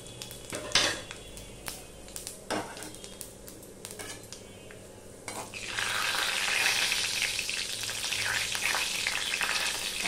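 Bay leaves and panch phoron hit hot oil in a wok. A few sharp clatters and spoon knocks come first, then a steady crackling sizzle swells up and holds close and loud to the end.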